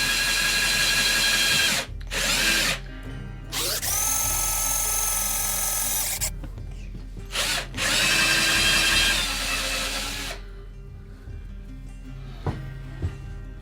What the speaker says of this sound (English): the trick is to keep your drill as level and straight as possible